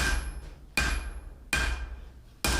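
A hammer strikes the horn of an anvil four times at an even pace, each blow a sharp, bright metallic clang that rings briefly and fades before the next, close by with no talking.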